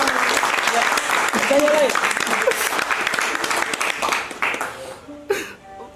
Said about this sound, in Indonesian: Semua tepuk tangan buat Aloy.